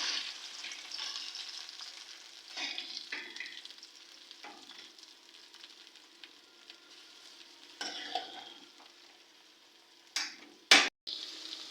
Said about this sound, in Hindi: 1 कप भर के हमने घी शामिल किया है और अब हम इसमें भिंडियाँ फ्राई